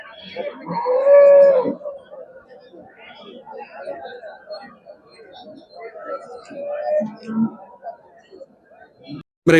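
Cattle at a market in Karunkalpalayam, with a calf among them, give a loud moo-like call near the start amid constant crowd chatter and talk, with further faint animal sounds later.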